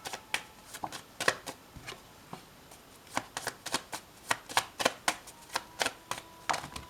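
Cards for a reading are handled and drawn, making a quiet run of crisp flicks and taps in an irregular rhythm, close by, with no talking.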